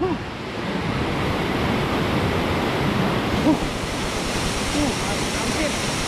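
Steady roar of falling water at the Aling-Aling waterfall fills the whole span, broad and constant, with faint voices and wind buffeting blended underneath.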